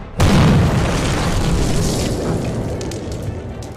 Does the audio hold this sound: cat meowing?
no